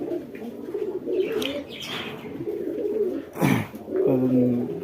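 Pigeons coo in low, throaty rolling phrases close by, with a brief flutter partway through and faint chirps in the background.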